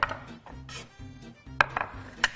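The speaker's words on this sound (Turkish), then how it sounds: "Dereotumuzu doğruyoruz" Fresh dill being chopped with a knife on a board for a vegetable soup: a rapid run of close, sharp knife strikes in an uneven rhythm, loud and clear with no talk.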